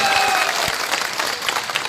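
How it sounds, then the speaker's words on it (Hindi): Audience at an Independence Day political gathering in Aurangabad applauds to welcome a guest, a loud, dense wave of clapping sustained throughout with faint crowd murmur. "समीर भाई के लिए भी आप तालियां बजाकर उनका स्वागत"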